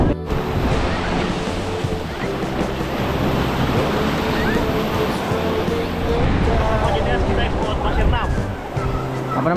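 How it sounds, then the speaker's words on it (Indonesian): Strong wind buffets the microphone while wild ocean waves crash and roar at a beach, a loud, continuous wash of surf noise throughout. "Anginnya kencang, ombak-ombaknya gila,"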